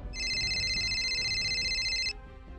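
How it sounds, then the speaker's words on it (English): A telephone rings with a steady electronic trill lasting about two seconds, clear and fairly loud over a low background hum, then cuts off abruptly. "She turned back and suddenly the phone rang."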